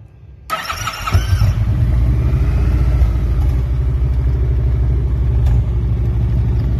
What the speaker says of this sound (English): So let's fire it up and see what we have at idle.